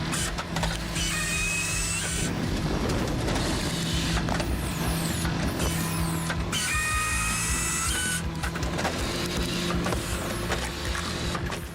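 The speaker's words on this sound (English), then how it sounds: "The Halverson HWP100 steering wheel attachment processor is an innovative solution for wood processing" A Halverson HWP100 wood processor working logs, with a continuous loud mechanical grind and rattle broken by repeated bursts of high whining saw or feed noise, heard close with no voices.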